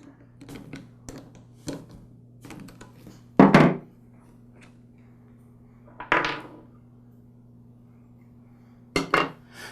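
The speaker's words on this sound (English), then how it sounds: "Now I'm going to go ahead and remove the other cover." Metal cover being removed from a Troy-Bilt small frame transmission during disassembly, a series of sharp clanks, taps and thunks of metal parts, a few louder knocks spaced apart over a steady low hum.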